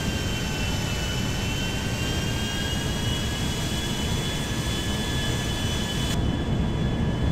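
An airplane in the GTA 5 video game flies and slows to land, giving a constant loud jet engine roar with steady whining tones that cuts off sharply near the end, with no voices.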